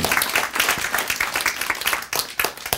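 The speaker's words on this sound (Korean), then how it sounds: "박수." Uneven, rippling applause from an audience at a Korean lecture hall talk on the Bible and science, loud claps in bursts with swelling and fading waves.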